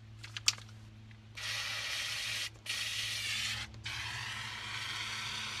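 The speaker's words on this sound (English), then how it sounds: "We're gonna spray paint this a little bit more to get it good and wet" A spray paint can hisses in three steady bursts separated by brief pauses, after a few faint rattles and clicks, close by, spraying a wreath.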